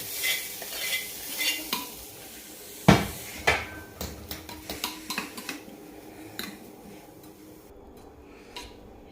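An egg kabab mixture is stirred and mixed in a bowl, heard as close irregular scraping and clinking of a spoon against the bowl with a few sharper knocks, without talk.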